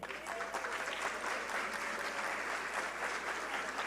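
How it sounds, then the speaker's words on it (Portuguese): Audience at a school teachers' pedagogical week event applauding the organisers, a steady, fairly distant wash of many people clapping with no break. "Eu quero que vocês aplaudam a organização."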